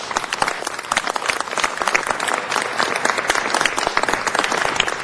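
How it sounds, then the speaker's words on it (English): Steady, dense applause from an audience at a city council meeting honoring a family matriarch, many hands clapping continuously at a moderate, even level with no voices standing out. "we should give a rousing round of applause to the matriarch of the family"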